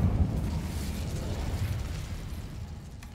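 An Incendio fire spell effect in a video game, a steady loud whooshing roar of flames with a rumbling low end, sustained for the whole three seconds without speech.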